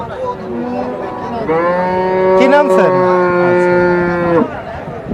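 A desi dairy cow at a cattle market lets out one long, loud, close moo lasting several seconds, with a voice briefly heard just before it.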